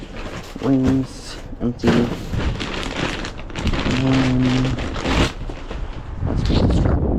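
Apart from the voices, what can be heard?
wind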